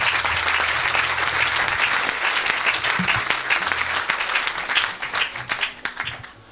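A church congregation bursts into loud, sustained applause for Jesus, a dense wash of many hands clapping that thins into scattered, uneven claps toward the end.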